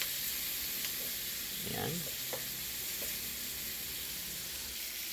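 Ingredients sautéing in a pan for ginataang bigoy, a steady low sizzle under brief stirring scrapes, with a few quiet spoken words.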